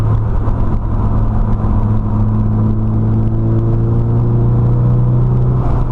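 A Nissan Silvia PS13 with its SR20DET engine cruising at light throttle gives a steady, close drone with a low, even hum and little change in pitch throughout.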